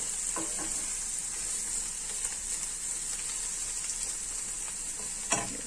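Filling mixture for potato içli köfte stirred in a hot pan, a steady close sizzle with faint scraping and a sharper knock near the end, no voices.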